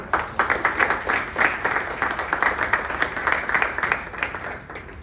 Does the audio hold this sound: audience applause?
yes